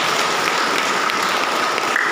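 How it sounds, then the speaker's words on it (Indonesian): Audience applause at a Javanese church congregation's 129th anniversary gathering, a steady wash of clapping from a crowd filling the whole moment without talk. "Kita beri tepuk tangan dulu Bapak."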